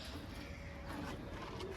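Active pigeons, Andhra, Kalodana, Madras and Giribaz breeds, coo softly amid steady bird-room noise, with faint fluttering and low murmurs running through a short stretch.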